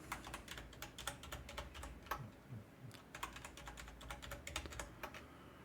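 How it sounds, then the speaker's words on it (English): A password being typed on a computer keyboard: quiet, rapid clusters of key clicks with brief pauses, close and soft, with no talking. "you're going to type in a password that protects your private keys"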